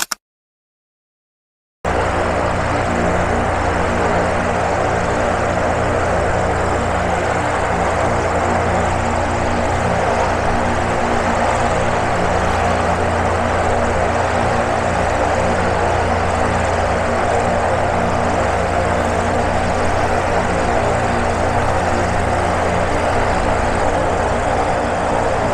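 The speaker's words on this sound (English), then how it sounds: "watch the engine gimbal up as they start to take off" A blimp's engines run steadily during takeoff, a loud continuous propeller drone with a low throbbing hum that holds level for about twenty seconds after a brief silent start.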